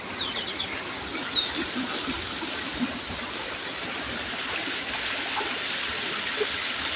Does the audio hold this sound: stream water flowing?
yes